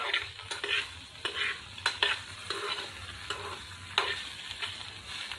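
Okra pieces coated in salt and turmeric cook in a pan, with a low sizzle beneath repeated scraping strokes of a spatula stirring them in an uneven rhythm, close by and without speech.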